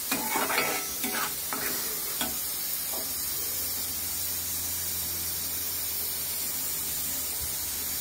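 Masala paste for prawn fry sizzling in a pan, a steady, bright frying hiss with a few stirring scrapes early on, then an even continuous sizzle close up.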